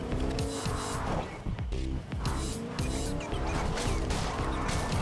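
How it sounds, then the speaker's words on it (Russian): A car in Fortnite drives hard with the engine roaring loud and steady, tires squealing and skidding through turns, with a faint voice underneath. "После того, как мы нашли машину, жмем тапку в пол и едем в приятный парк."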